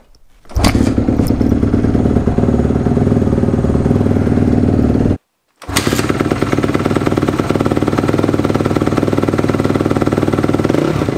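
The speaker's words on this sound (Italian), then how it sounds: "il sound del quattro tempi a me fa impazzire" Four-stroke motorcycle engine, likely a Honda CRF, starts and runs loud and close, with a steady low rumble that cuts out briefly before resuming.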